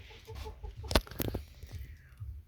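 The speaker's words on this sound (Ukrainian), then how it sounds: "І кури, як завжди, ще дві ходять." Chickens clucking softly in short bursts nearby, with a sharp knock and some rustling in between.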